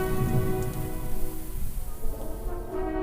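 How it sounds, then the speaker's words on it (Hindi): Steady rain falls in a village, a dense hiss of drops with a low rumble beneath and a faint sustained tone running through it, continuous and even with no voices. "बारिश आ गई"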